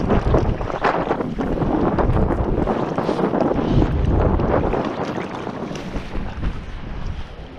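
Wind buffeting the microphone while fly fishing on a UK still-water lake, loud rushing gusts that continue throughout with no talk.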